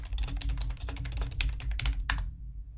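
Rapid, close clatter of keys on a computer keyboard, steady bursts of typing over a low hum, then a sudden stop.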